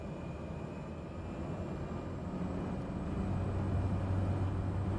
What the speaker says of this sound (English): Takeoff power is set.